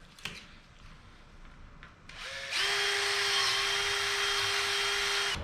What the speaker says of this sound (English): Punch it and drill it.